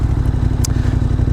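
A KTM 1290 Super Adventure S motorcycle engine runs steadily while riding, a loud continuous low rumble with wind buffeting and a brief clatter, no voices.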